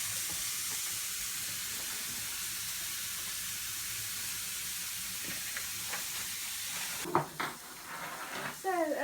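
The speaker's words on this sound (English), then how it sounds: "And I'll put the rest of my vegetables back onto the grill one more time." Vegetables sizzle on a hot grill while noodles are being cooked, giving a steady close hiss throughout, with a few clattering utensil or pan sounds near the end.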